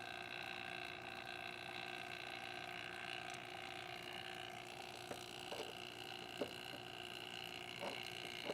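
A vacuum pump running on a mini split heat pump's line set gives a steady, faint mechanical hum with tonal whine, broken by a few small gurgling pops in the latter half.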